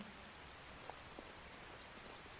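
Rain falls steadily in the video game Skyrim, a soft, even hiss with a few faint drip-like ticks, quiet and continuous.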